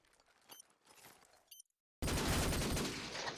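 Call of Duty 4 gunfire in a competitive match: after a few faint, scattered shots and a brief pause, a loud, dense burst of rapid shooting erupts and sustains to the end.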